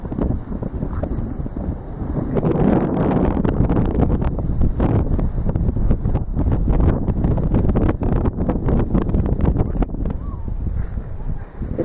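Wind blowing hard at a coastal ruined tower, heavy low rumbling microphone buffeting with crackly gusts throughout, loud and close, with someone speaking faintly beneath it at times.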